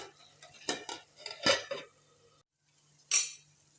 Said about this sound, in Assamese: ঢাকনিখন দি দিছোঁ।